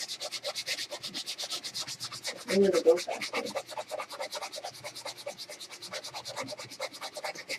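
Fast, steady back-and-forth sanding strokes scratch against a wooden board carrying a Mod Podge picture, close and continuous, with a brief spoken remark partway through.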